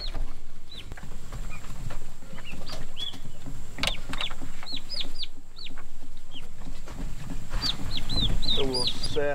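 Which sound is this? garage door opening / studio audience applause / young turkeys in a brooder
young turkeys in a brooder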